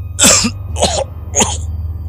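Three harsh, breathy coughs in quick succession, close and fairly loud, over a low steady hum.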